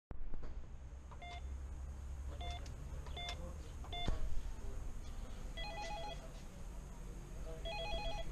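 An apartment intercom keypad dialing flat 400, a series of short electronic beeps and multi-tone dial chirps in a small entry space over a steady hum, with brief talk nearby.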